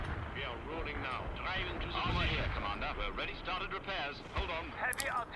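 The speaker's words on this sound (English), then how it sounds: "We're basically just coating the area in explosions to try and do some damage here." Heavy artillery booms and rumbling blasts roll continuously, mixed with gunfire, while people talk over the din, in the video game World in Conflict: Soviet Assault.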